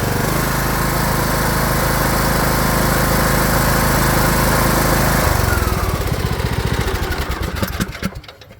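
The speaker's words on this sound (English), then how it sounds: "Under the hood, we've got a Briggs and Stratton 19 horsepower engine." Troy-Bilt Bronco 42 lawn tractor with a 19 horsepower Briggs and Stratton engine running close by, a steady loud drone that drops into a slowing sputter as it shuts down and dies away.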